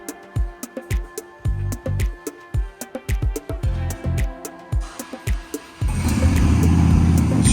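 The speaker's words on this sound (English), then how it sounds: "Starting up some bikes in there." In a motorcycle workshop, an engine cranks in a quick rhythmic series of loud mechanical pulses before catching and settling into a steady, close, roaring idle.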